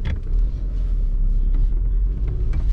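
A BMW X5 E53 4.4is V8 engine idles just after start-up, a loud, steady low rumble heard close up with no talking.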